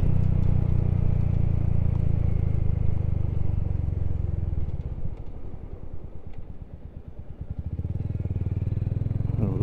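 Royal Enfield Hunter 350 single-cylinder motorcycle with a 16-tooth sprocket upgrade riding in fourth gear: a loud, steady, close thumping exhaust drone that eases into a lower, pulsing beat midway and then builds again.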